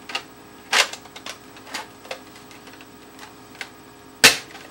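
A Nerf Longshot blaster rebuilt with a CPVC barrel and firing foam darts gives two sharp, close snapping shots several seconds apart, with scattered small mechanical clicks and handling noises in between.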